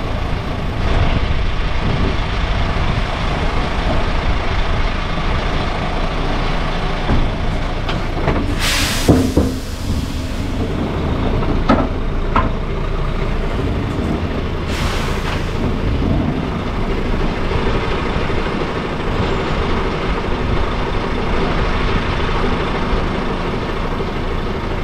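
A heavy transport truck moves forward with a loud, steady low engine rumble and rattle throughout, broken by a couple of short sharp bangs or air bursts partway through.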